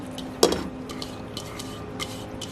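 Baked mac and cheese ingredients and noodles being mixed in a pan: one sharp clank of a utensil against the pan, followed by faint, sparse scraping, close and without talk.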